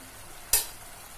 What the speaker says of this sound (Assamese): এয়া বিলাহীটো ভাজি মানে মছলাখিনি ভাজি লৰাই আছোঁ